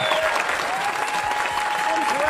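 A comedy club audience applauds the comedians in a dense, sustained burst of clapping, loud and continuous throughout, with a voice speaking over it.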